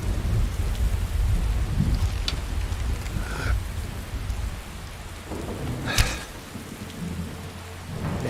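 Steady rain falls throughout a Skyrim game world, with rumbles of thunder rolling underneath and a sharp crack of thunder near the six-second mark.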